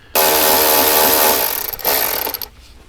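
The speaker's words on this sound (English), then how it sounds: "Now let's go ahead and get our 3 7mm screws out." A power driver whirs loudly up close, backing out a 7mm screw on a 2021 Ford Bronco's interior panel during a speaker installation, one sustained burst with a brief pause before it spins again and stops.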